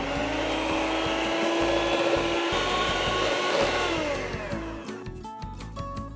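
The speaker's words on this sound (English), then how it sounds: "And now we're going to mix again." An electric mixer whirs steadily through pumpkin bread batter with eggs just added, loud and continuous, then winds down and slows near the end.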